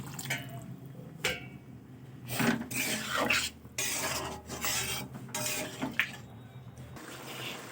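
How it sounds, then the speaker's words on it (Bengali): Water added to bitter gourd and potato cooking in a pan, soft splashing and wet scraping bursts from stirring, close and fairly quiet. "এবারে দিয়ে দেবো আমি পরিমাণ মতো জল"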